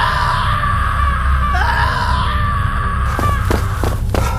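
A man screams while running out of a room, a sustained shrill cry that trails into breathy gasps and sharp bumps at the end.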